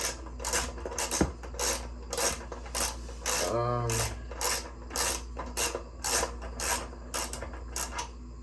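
Bolts coming off a mini bike wheel during a tire change, heard as a steady run of rhythmic metallic clicks and ratcheting that repeats about once a second, fairly close, with a short low whir midway and no talking.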